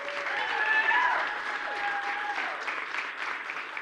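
Keynote audience at a campus event applauds steadily, a dense wash of clapping that swells early and holds at moderate loudness, with some tonal whistles or voices mixed in.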